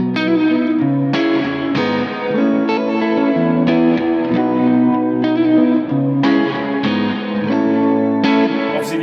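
An ESP Liquid Metal electric guitar plays through its overdriven bridge pickup, loud distorted chords struck in a series of ringing phrases with sustained decay, alone and close.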